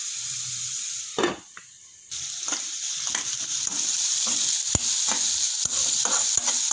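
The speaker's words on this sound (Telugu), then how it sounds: "ఎర్రగడ్డ వేగిపోయింది" Onions frying in a pan while tomato rice is prepared, a loud sizzle that cuts out briefly after a clatter, then returns with rhythmic scraping and stirring strokes against the pan.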